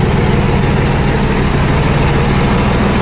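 A second-hand tractor's diesel engine idles steadily at a showroom, a continuous loud, close low throb with an even chugging rhythm and no voices.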